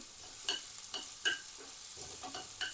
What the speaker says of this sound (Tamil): இப்போ எண்ணெய் சூடாகிட்டு இதில் ஒரு பாதி பெரிய வெங்காயம் சேர்த்துக்கொள்கிறேன் இந்த வெங்காயம் கொஞ்சம் வதங்கட்டும்